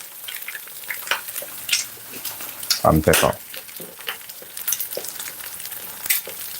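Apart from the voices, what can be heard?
egg frying and popping in a pan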